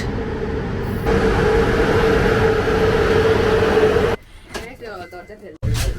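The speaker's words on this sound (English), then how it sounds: "Our train has arrived." Steady rumble of a train rolling into a small railway station in Sighisoara, Romania, loud and continuous, then it drops off abruptly to quieter background with a voice speaking briefly.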